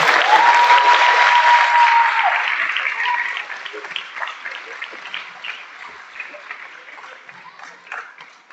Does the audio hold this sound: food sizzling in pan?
no